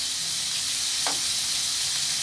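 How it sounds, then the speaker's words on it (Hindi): Chicken breast sizzles in a pan over high flame, a steady close frying hiss with one brief scrape of stirring midway, no voices. "हाई फ्लेम पे पकाना है चिकन ब्रेस्ट है।"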